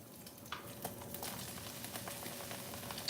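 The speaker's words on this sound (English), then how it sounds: "my extra virgin olive oil has been heating up" Extra virgin olive oil heating in a pan gives a faint, steady sizzle and soft crackle with a few light pops, quiet and continuous throughout.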